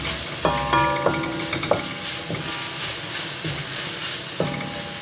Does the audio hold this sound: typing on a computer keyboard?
no